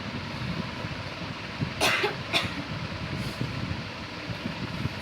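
Two quick coughs over a steady rumble of traffic-like background noise, nearby and moderately loud.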